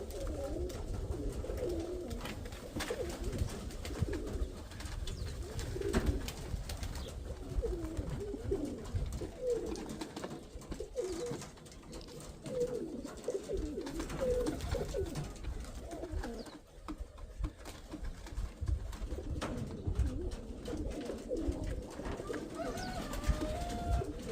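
Domestic pigeons in a home loft coo in low, soft, rolling phrases repeated steadily over a quiet background, close by and continuing throughout.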